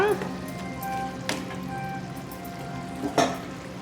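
Chicken curry with ginger garlic paste sizzles steadily in a pan at close range, with a couple of stirring scrapes and a person talking over it.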